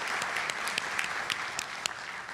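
Clapping from an audience at a county community meeting, a steady wash of many hands with a few sharper individual claps, moderately distant and fairly quiet throughout.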